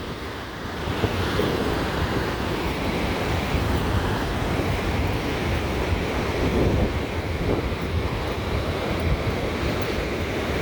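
Steady broadband roar of Niagara Falls at the American Falls, continuous rushing water heard from a distance and mixed with wind buffeting the microphone, loud and unbroken throughout.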